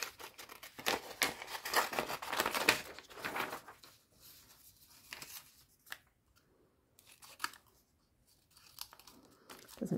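Scissors cutting paper to trim out the bottom of a paper boat craft, a series of close, crisp snips and rustles in bursts with quiet gaps between them.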